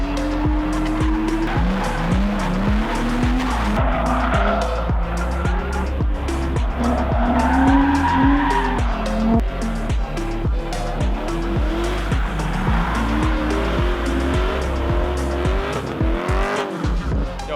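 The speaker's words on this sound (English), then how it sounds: "We're out here right in the middle with cars drifting behind us." Drift cars slide past with repeated rising tire squeals and roaring, revving engines, loud and close, one after another over a continuous din.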